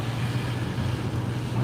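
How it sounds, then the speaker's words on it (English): Strong storm wind blowing outside a car on a city drive, a steady loud broadband rush with a low droning rumble throughout, heard alone with no talk. "Dude, the wind right now, there is stuff like falling off the trees right now."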